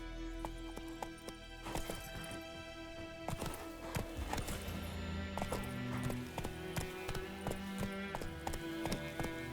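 Roach the horse gallops through The Witcher 3: Wild Hunt, Blood and Wine, with rapid, steady clip-clop hoofbeats up close and a possible whinny, layered over a dense, continuous game soundscape.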